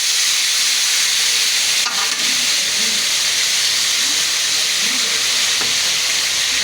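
Tomatoes frying in hot oil with garlic and cumin, a loud steady hissing sizzle close up, with a brief clatter partway through and faint murmuring underneath.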